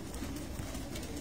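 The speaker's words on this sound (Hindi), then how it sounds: "ये लंबा उड़ा हुआ कबूतर है" A long-distance flying pigeon kept on a rooftop coos softly in a low, murmuring burr, faint and close, with no voices over it.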